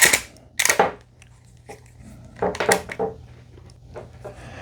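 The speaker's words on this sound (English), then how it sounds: "hook this on one thing, hook this on the next, and then start your ratcheting." A Rhino USA retractable ratchet tie-down strap, 1 inch by 10 feet, being worked by hand, giving sharp clicking ratchet snaps in quick clusters with short pauses between them.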